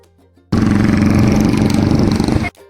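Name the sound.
vehicle exhaust needing a new silencer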